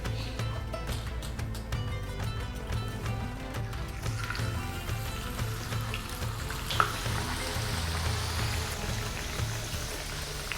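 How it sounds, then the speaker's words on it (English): Potatoes frying in hot oil for a chicken and vegetable maqloubeh, a soft, steady sizzle and bubbling with light clinks and a brief clatter midway, no talking. "Now let's fry the potatoes."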